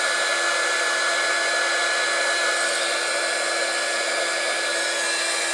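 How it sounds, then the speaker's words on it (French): Heat embossing gun blowing hot air steadily while making Christmas tags for card crafting, a loud continuous whooshing roar close up with no pauses and no talking. "Vous attendez que le pistolet soit bien chaud."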